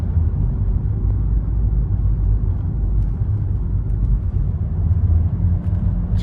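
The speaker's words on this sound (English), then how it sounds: "But just the sound of that V8 it's soothing." A 2006 Shelby GT-H V8 engine idles at close range, a steady, deep, loud rumble that holds even throughout with no talking.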